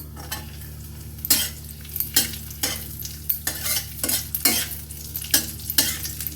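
Raisins fry in hot ghee while a spoon stirs them around the pan, a low steady sizzle under repeated scraping strokes, close up and without speech.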